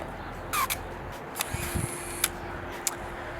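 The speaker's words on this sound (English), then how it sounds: "And then here is a sound of the shutter firing." Shutter of a Nikon L35AF point-and-shoot film camera firing, a few faint, brief mechanical clicks and whirs close by in a quiet room.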